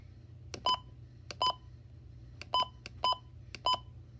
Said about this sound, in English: you can also hear like a beeping sound too